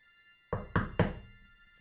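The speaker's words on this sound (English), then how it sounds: "James rapped hard at the door several times" Three hard, loud raps on a wooden door in quick succession, each sharp knock close and distinct, the last fading into a short resonance over a faint tonal hum.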